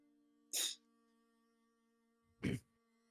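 Two short, sharp bursts of breath a couple of seconds apart, the second deeper and fuller, like sneezes in an otherwise quiet room.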